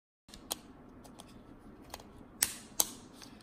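An AirPods clone charging case snaps open and shut with small plastic hinge clicks, several quiet close ticks with two sharper snaps near the end, in a hushed room.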